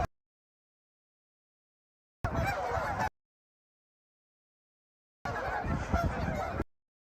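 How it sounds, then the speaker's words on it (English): Geese honk in two separate bursts of calls outdoors by a lake in Regina in November, each lasting about a second, with silence between them. "Sound of the geese."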